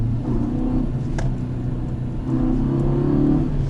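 Fiat Egea Cross 1.4 accelerating in second gear around 3200 rpm, a steady mid-pitched engine drone with rising tone heard from inside the cabin, continuous and fairly loud with no talk.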